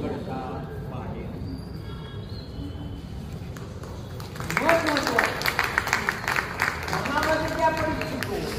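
At a high school reunion gathering in Ichalkaranji, a voice talks over a quiet hall, then the audience bursts into loud, sustained applause that fills the rest of the moment.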